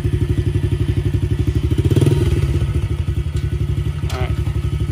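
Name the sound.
Yamaha TTR-110 kids dirt bike being kick-started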